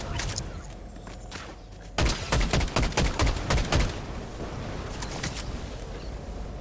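A quick burst of gunfire from Fortnite, several sharp shots in rapid succession after a quieter stretch, set against the ongoing noise of the game.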